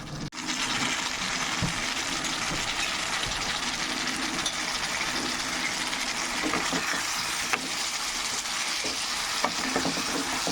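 Potato and cauliflower sautéed in spice masala for a bhola fish curry, a loud, dense, continuous sizzle with occasional faint scrapes of stirring.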